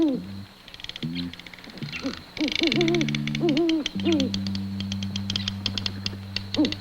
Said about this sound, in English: Ben, off exploring by himself, found an owl